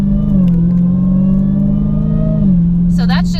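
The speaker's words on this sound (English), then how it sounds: "the supercharger is like twice as loud as mine" A 2019 Dodge Hellcat Redeye's supercharged engine idles with a loud, steady mechanical drone, dipping slightly in pitch, then a person talks briefly over it near the end.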